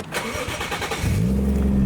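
A car engine cranks briefly and catches, then settles into a steady low idle close by.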